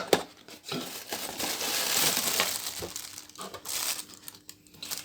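Cardboard and plastic packaging of a Ubon HP 1320 Champ mega bass headphone box being opened, giving steady close crinkling and crumpling for about five seconds with no talk.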